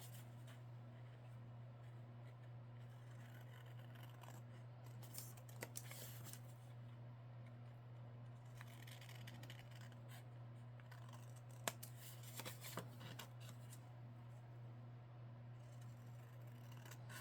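Scissors snipping the edges off paper while decorating a small handmade journal, quiet scattered cuts and rustles over a steady low hum, with no speech.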